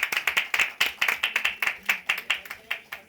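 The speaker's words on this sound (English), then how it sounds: "Can we begin with a huge round of applause?" Sharp, distinct hand claps from a small group at a Filmfare Awards 2019 press conference, ringing out at a steady pace, close and fairly loud.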